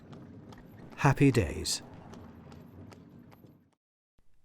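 The hooves of a horse pulling a Douglas horse tram car clop along in a steady rhythm, fairly close. A voice breaks in briefly, then the hoofbeats fade out.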